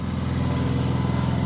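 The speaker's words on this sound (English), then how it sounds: "Sorry, this guy is just always mowing lawns out here." A lawn mower runs outdoors nearby, a steady buzzing engine drone that holds constant throughout with no breaks or voices.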